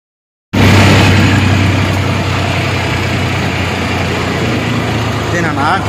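A tractor engine runs steadily while being ridden, a loud, continuous low rumble that starts abruptly and holds without a break, with voices faintly mixed in beneath it.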